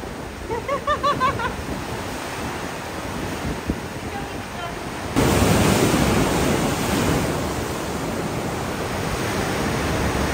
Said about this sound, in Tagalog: Lakas ng alon talaga dito.